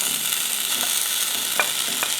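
Chopped apples cooking in a pan for an eggless, butterless apple tart, giving a soft steady sizzle with a few light scraping stirs of a utensil, no voices.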